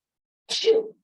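A single short sneeze, sharp and close, preceded and followed by silence.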